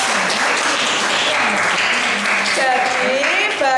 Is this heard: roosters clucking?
no